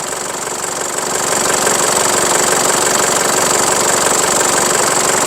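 A used van's engine runs steadily nearby with a constant droning hum and a faint rhythmic knock, no voices over it.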